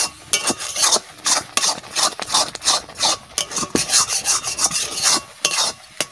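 Thick mango amsatto mixture, its juice nearly cooked off, stirred in a pan with a spoon, a rhythmic scraping and rubbing repeated many times, close and fairly loud, with no talking.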